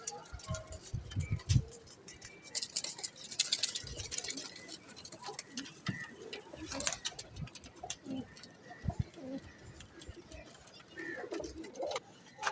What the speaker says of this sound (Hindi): सलारी फीमेल बुलेट सहारनपुरी कबूतर हैं।